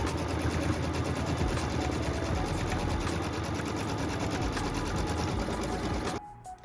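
An embroidery machine stitches the outside cut line of a quilt block in Bone-colored thread, a steady, fast, continuous whirring drone with rapid needle rhythm that runs evenly before stopping abruptly near the end.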